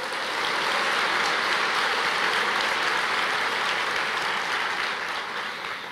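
A church congregation applauds during a sermon, a dense continuous wash of clapping that stays steady for several seconds before easing slightly at the end.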